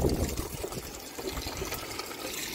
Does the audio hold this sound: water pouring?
yes